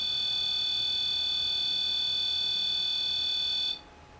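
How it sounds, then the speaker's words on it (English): A REM pod paranormal detector on a table sounds a steady, piercing electronic alarm tone, loud and unbroken, that cuts off abruptly near the end, leaving quiet room noise. "So the REM pod just went off, which means something's gone near it."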